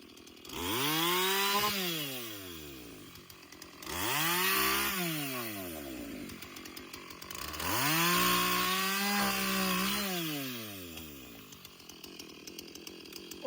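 A chainsaw cuts firewood logs outdoors in three long passes, the engine revving up under load and dropping back to idle between cuts, loud and close.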